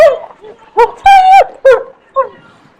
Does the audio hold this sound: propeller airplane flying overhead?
no